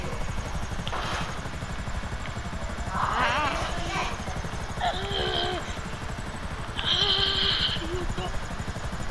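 A video-game helicopter flies in a crime game, its rotor a continuous rapid thudding throughout, with brief higher tones and game sounds flickering over it and people talking.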